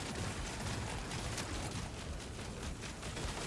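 Dense, continuous rumbling bursts of fire explosions and gunfire from the video game Deep Rock Galactic Survivor fill the whole stretch at steady loudness, a noisy barrage with no pauses.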